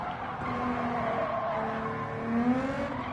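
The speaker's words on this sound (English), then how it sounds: "Tiny little bit of tyre squeal" A race car lapping the DGT Not Amused circuit, its engine droning steadily while a faint tyre squeal rises briefly near the end of a corner exit, with no talking.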